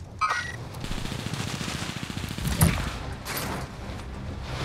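Rapid automatic gunfire from a Bren and a Cooper Carbine in a shooter video game rattles in a steady, fast stream of close shots, with a louder burst partway through and no talking.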